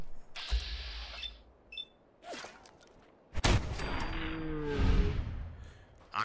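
Several sharp bursts of gunfire ring out in Fallout 4, with loud cracks and a longer volley near the middle, punctuated by mechanical clicks and swishes.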